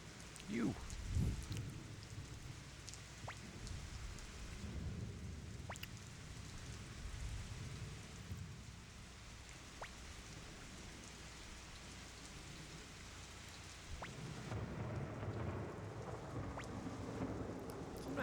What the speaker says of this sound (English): Nice rain sound effects.